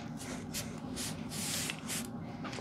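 Fine face mist sprays in short faint hissing bursts, several quick spritzes spaced unevenly across a quiet room with no talking.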